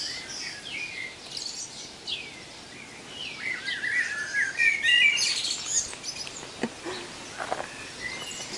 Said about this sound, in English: the birds are having a field day here